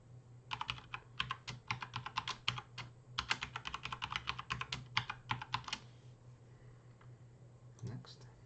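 Someone types a password on a computer keyboard, a quick run of close, crisp key clicks in irregular bursts that stop for a moment before a couple of final taps, with a low hum underneath.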